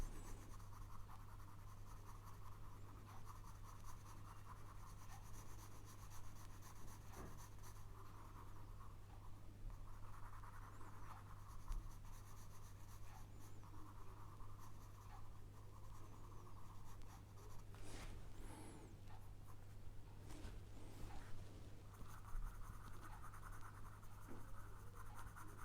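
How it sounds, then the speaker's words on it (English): An HB pencil shades and blends on paper, a soft continuous scratchy rasp with steady strokes over a low background hum, faint and close, with no talking. "Just graduating those shadows and blending them, keeping the pencil on the paper"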